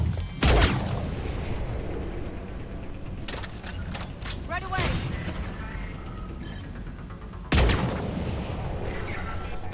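Gunfire in the sci-fi shooter Mass Effect 3, with sharp heavy shots and bursts cracking out across the clip, a big boom near the start and another near the end, mixed with mechanical game effects.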